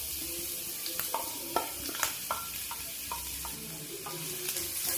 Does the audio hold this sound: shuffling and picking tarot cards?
no